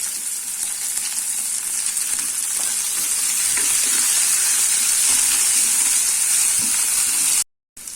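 A large cut onion, two green chillies and a few curry leaves frying in hot oil, giving a loud, continuous bright sizzle and hiss with a brief dropout just before the end.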